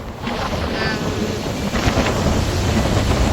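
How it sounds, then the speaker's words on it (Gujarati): Strong wind on a rooftop buffeting the microphone in a steady, loud roar, with gusts rising and falling. "આજે પવન બહુ ખાસ છે"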